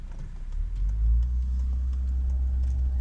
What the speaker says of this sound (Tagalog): May traffic.